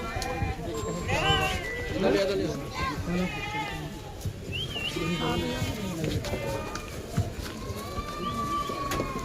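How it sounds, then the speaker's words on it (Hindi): Sheep bleat repeatedly, several overlapping wavering cries near and farther off, as the flock moves about amid chatter from people nearby and occasional bird calls. "ये भेड़ घूम रहे हैं।"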